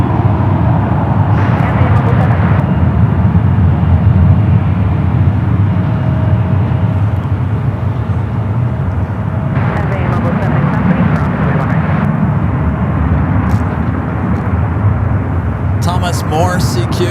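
An Air China Boeing 777-300ER departs San Francisco airport bound for Beijing, its engines a steady, loud jet roar that holds across the whole stretch, with talking heard over it.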